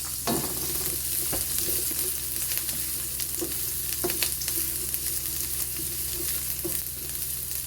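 Garlic and onion sizzle steadily in a hot pan while tortang talong with pork giniling is being made, a continuous close frying hiss with scattered spoon scrapes and clinks, no voices.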